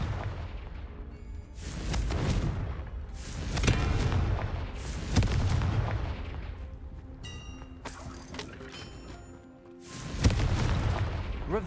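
Confringo fire spell explosions in Hogwarts Legacy: a series of deep booming blasts at irregular intervals, each swelling and fading with a rumbling tail, loud and close with magical crackle between them.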